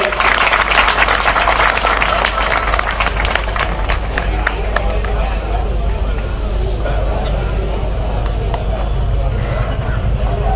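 Applause from the audience at an award ceremony after the lamp is lit, a loud, dense wash of clapping mixed with crowd hubbub that carries on steadily to the end.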